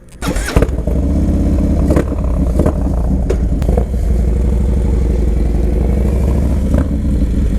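A Harley-Davidson Dyna Low Rider S (FXDLS) motorcycle rumbles nearby after a sharp start, settling into a loud, steady, deep idle with a throbbing, lumpy beat and a few faint clicks over it.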